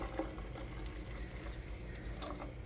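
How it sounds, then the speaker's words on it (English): Water poured into a soup pot in a home kitchen, a steady soft trickling and splashing, faint and close, heard alone without talk. "And more water."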